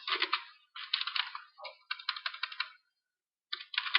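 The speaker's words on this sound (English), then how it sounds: "my typing is dreadful" Bursts of quick keyboard typing in short runs, with clear pauses between them, close and crisp with no talking.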